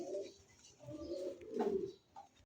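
Two pigeons coo softly at close range in a few short, throaty, rolling phrases with brief pauses between them, and no talking.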